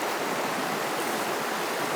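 Steady, continuous rush of an Australian river current flowing through a trout channel, a broad close wash of water with no voices.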